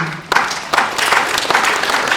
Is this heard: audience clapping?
yes